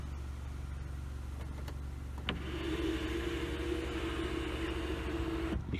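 Electric motor whirs steadily as the panoramic roof of an Audi Q5 slides open inside the cabin, a faint hum starting after a click and running smoothly until a stop click at the end.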